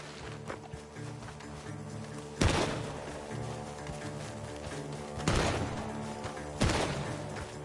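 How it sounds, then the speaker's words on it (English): Three sharp gunshots from a barn in the video game Red Dead Redemption 2 ring out at spaced intervals over a constant rumbling backdrop, each blast loud and abrupt. "The gunshots are coming from that barn."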